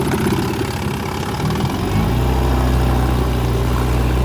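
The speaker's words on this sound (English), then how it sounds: "Idles down real nice, real quiet motor." A 1959 Evinrude 10 HP outboard motor idles steadily nearby, a loud, continuous, buzzing drone that settles into a smoother, lower tone partway through, with no talking.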